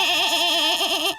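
A cartoon goat bleats in one long wavering, tremulous cry with a strong tonal warble. It is loud and close, with no talk over it, and breaks off abruptly at the end.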